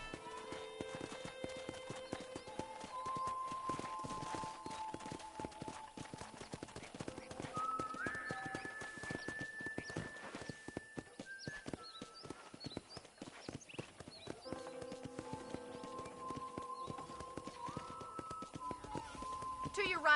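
Horse hooves clip-clopping on a ranch in the video game Red Dead Redemption, a steady stream of quiet hoofbeats beneath background music with speech running over them.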